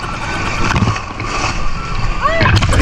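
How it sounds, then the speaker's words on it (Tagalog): A banana boat passes close by on the sea off a Zambales beach, its motor and splashing water heard over steady surf and wind, with a person talking over it. "Pati yung banana boat dumadaan na po sa likod ko."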